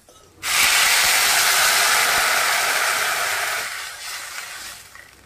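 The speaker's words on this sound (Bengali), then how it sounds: "আমি এখন জল দিয়ে দেবো" A sudden loud hiss and sizzle as water hits a hot pan of fried raw papaya and potato, roaring steadily for about three seconds before fading to a softer bubbling simmer.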